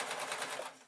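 A sewing machine stitching through layered fabric for an Easter bonnet, a steady continuous whir heard close up for under a second, with no speech.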